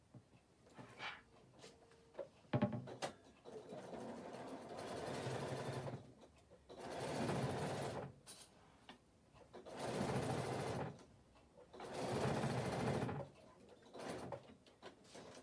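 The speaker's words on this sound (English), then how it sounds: "I'm going to just stitch that in place" A sewing machine stitches an extra fabric piece in place on a work desk project, running in four steady bursts of roughly two seconds each, separated by pauses and a few clicks.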